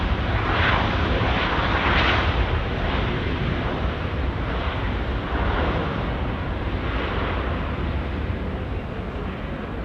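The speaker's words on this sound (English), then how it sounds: "A320 just coming in." Airbus A320 arriving on runway 23 at Auckland Airport, a loud sustained jet roar with broadband rush that holds steady and eases slightly over ten seconds, heard from nearby with no talking.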